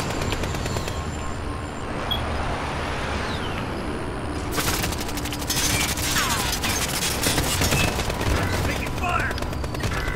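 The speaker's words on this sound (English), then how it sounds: "They're shooting at me." Gunfire in the Call of Duty Modern Warfare video game, rapid bursts of automatic shots and clattering mechanical weapon sounds, dense and continuous in the second half over game ambience.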